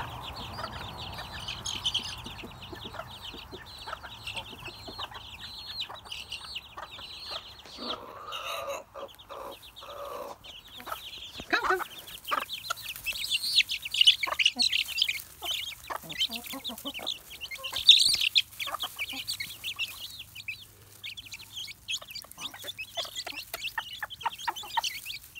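Hens cluck and chatter busily while being fed mealworms and maggots, a steady flock of soft calls with occasional louder squawks, close by, with little talk.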